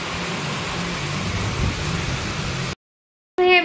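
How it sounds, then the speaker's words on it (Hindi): Heavy rain pours down in a village in a steady, dense roar that stops abruptly, followed by a brief burst of sound. "आई होप आप लोग को बारिश की आवाज़ आ रही हो, तड़तड़ तड़तड़ चल रही होगा"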